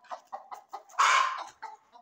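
Aseel hens cluck in a series of short, close calls, then one longer, louder squawk, followed by a final cluck, with no talking.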